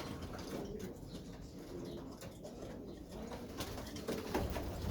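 Young racing pigeons recently weaned coo continuously in a loft, a low, soft, overlapping murmur of many birds close by with no talking.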